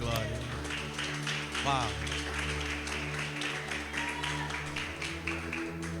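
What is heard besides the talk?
congregation applauding in church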